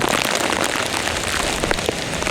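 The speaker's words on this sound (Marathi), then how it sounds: "खूप पाऊस आहे." Heavy monsoon rain pours down in Mumbai during a red-alert storm, a dense, loud, unbroken hiss of drops striking surfaces close by.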